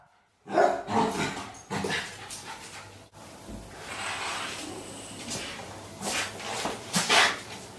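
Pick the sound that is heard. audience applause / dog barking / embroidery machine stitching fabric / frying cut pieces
dog barking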